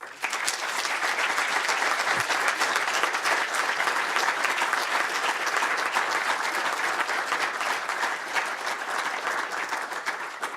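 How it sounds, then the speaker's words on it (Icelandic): A crowd at a Reykjavík city award presentation applauds steadily and warmly for about ten seconds, the dense clapping holding an even level throughout. "og gefum því gott klapp"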